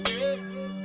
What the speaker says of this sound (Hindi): यह शंख की आवाज है।